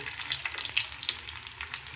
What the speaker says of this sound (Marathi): थोडीशी राई जाईल याच्यामध्ये